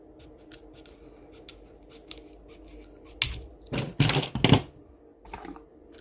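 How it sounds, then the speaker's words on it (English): Scissors snipping paper: a few soft clicks at first, then several loud crisp cuts in quick succession, close up and without talk. "Trim that off with my scissors."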